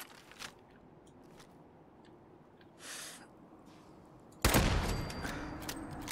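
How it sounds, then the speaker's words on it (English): A sniper rifle shot in Fallout 4 cracks out loud and sudden after a quiet stretch with faint thumps, its blast and tail of rumble and crackle lingering for a second or more. "That was a nice sniper shot."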